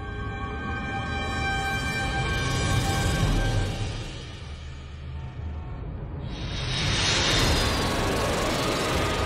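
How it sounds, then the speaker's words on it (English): A private jet's engines give a steady, loud roar with a thin tonal whine on top. The roar eases slightly midway and then swells again toward the end, with no voices. "Private jets must be much faster than commercial airlines."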